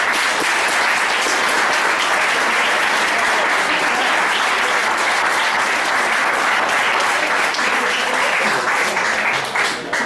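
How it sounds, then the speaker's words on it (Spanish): A roomful of people applauds a professor at a veterinary thesis defense, steady dense clapping that holds at full strength for about ten seconds before tapering slightly at the end, with no talking over it. "quisiéramos que nos regalaran un aplauso para el profesor Ricardo."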